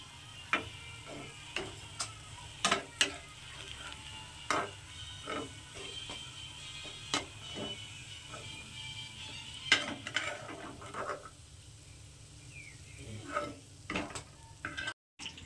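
Malpua deep-frying in hot oil gives a steady low sizzle, broken by frequent sharp clinks and taps from a utensil against the pan, before a brief silence near the end.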